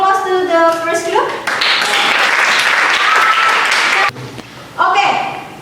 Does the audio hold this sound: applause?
yes